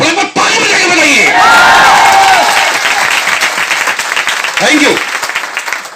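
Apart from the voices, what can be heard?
audience clapping and cheering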